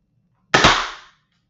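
A Dartzone Brute Pro toy dart blaster fires a single shot, a sharp, loud pop with a short rattling decay that dies away within about half a second, alone and without talking.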